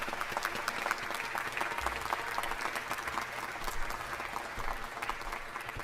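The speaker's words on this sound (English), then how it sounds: "Let's give them a big round of applause." Sustained applause from the audience at a Los Angeles City Council meeting, with many hands clapping in a dense, even roar that carries on for nearly six seconds without talk.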